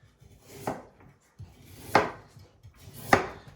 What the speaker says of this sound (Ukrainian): нарізаємо нашу морквочку ось такими кільцями, не дуже тоненькими